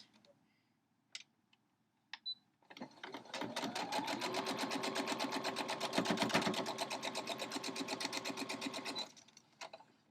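A sewing machine stitches pieces of a star quilt block together, running in one steady close rhythmic burst of several seconds after a few isolated clicks.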